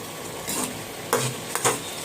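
Lote fish (Bombay duck) curry in oil is stirred and spread with a ladle, giving several close scraping strokes over a soft, continuous simmering sizzle.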